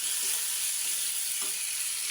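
Diced potatoes sizzling in a pan of fried spice masala, a steady bright hiss throughout with a couple of soft stirring bumps, no talking.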